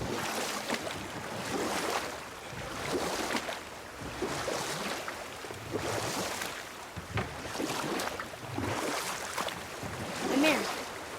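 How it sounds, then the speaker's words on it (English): Rowing a boat across water in God of War, rhythmic oar strokes about every two seconds with splashing and sloshing waves over a breezy background, voices talking at times. "Keep rowing towards the statues of the oarsmen"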